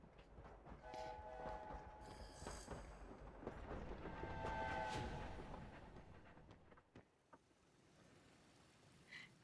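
Train arriving at Hogwarts in a video game, a rumbling, clattering approach with two sustained horn blasts, the rolling noise swelling then fading, followed by a few faint clanks.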